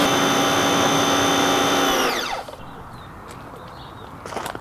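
A pressure-washer wand sprays rinse water over a Ford Ranger truck during a detail job, a loud steady hiss that winds down halfway through, leaving quiet ambience with faint drips and a small spatter at the end.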